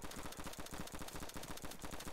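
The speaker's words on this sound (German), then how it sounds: "Die hören ja gar nicht mehr auf, die Schüsse." Rapid automatic gunfire in the video game DayZ, long sustained bursts of shots crackling nonstop at a steady rhythm, fairly loud and unbroken, with no talk over it.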